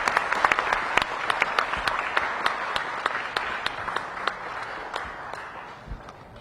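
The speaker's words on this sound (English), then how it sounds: "Can we give another round of applause for our amazing chorus?" Audience applause for a school chorus at an elementary school career day, a steady wash of many hands with sharp individual claps standing out, tapering off toward the end.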